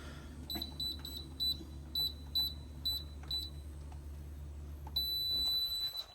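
A building alarm keypad at a residential entrance emits a series of short, sharp electronic beeps in an irregular rhythm as a code is keyed in, ending in a longer sustained tone, close by over a low steady hum.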